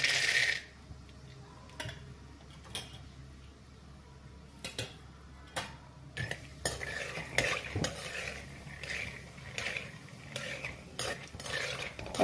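Peanuts go into hot oil and fry on low heat for poha chivda, a soft sizzle under repeated sharp clinks and scrapes of a metal spoon against the pan, spaced irregularly and close.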